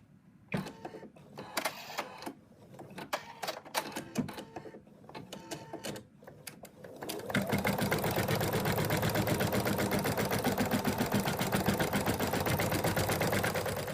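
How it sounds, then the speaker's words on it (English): An embroidery sewing machine stitches the outline of a cat appliqué body, starting after some scattered clicks and handling noise and then running as a steady, rapid mechanical chatter for the rest of the clip. "now it's going to stitch out the outline for the body"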